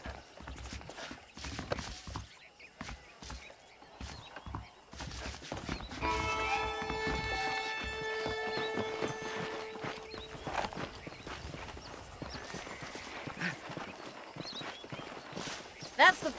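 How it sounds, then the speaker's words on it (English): Horse hooves clip-clopping at a walk in the Western video game Red Dead Redemption, a series of distinct close hoof beats, joined partway through by a sustained musical tone over the steps. "The horses are saddled up over here."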